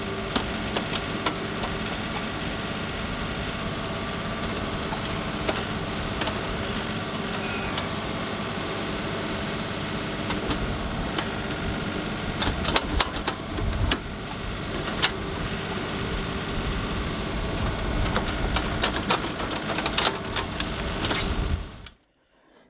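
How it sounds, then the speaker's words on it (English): A backhoe engine runs steadily while it clears dug-up dirt from around a busted drain line. The loud, continuous mechanical rumble stays even throughout and cuts off abruptly at the very end. "So I am gonna get the backhoe just to clear this mess out."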